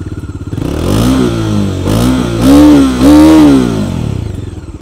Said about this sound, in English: The silencer is still the same. Let's just check out how bassy it is.